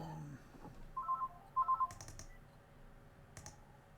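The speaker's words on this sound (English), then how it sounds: "Hang on, the phone's ringing." A telephone rings faintly with two short electronic bursts, followed by a few sharp clicks, in a quiet room.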